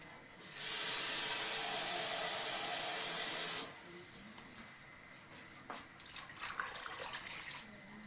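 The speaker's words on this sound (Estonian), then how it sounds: "Vett ei lähe, ma panen vett juurde." Tap water gushes into a pot of rutabaga pieces being covered for boiling, a loud steady rush lasting about three seconds before shutting off, followed by faint kitchen clatter.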